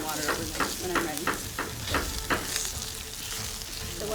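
Food sizzles and spits loudly in a hot pan while being sautéed before chicken is added, with a utensil stirring in regular scraping strokes; the frying hiss stays constant and close.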